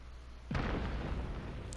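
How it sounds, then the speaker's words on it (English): A distant explosion in the video game Hunt: Showdown, a single deep boom that hits suddenly after quiet and rumbles on, fading slowly. "That was another explosion."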